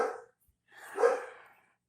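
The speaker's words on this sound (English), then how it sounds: "I have a German Shepherd barking in the background." A German Shepherd gives two barks, one short and one louder and drawn out, slightly distant in an otherwise quiet indoor room.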